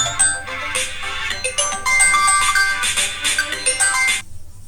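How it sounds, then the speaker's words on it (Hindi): A phone ringtone for an incoming call plays as a bright, busy melody for about four seconds and then cuts off, loud and clear with no talking over it. "सॉरी फोन आ रहा है।"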